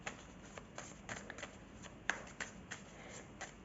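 Oracle message cards with crystal and astral travel themes being shuffled by hand, a close run of papery riffling and flicking with a couple of sharper snaps, no speech.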